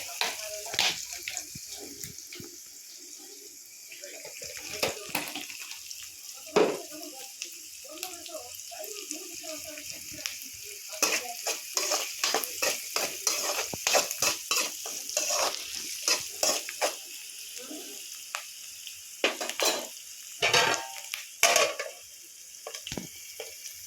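Curry leaves crackle and sizzle in hot oil in a home kitchen, with bursts of spattering and utensil clatter that grow busier toward the end. Voices sound faintly in places.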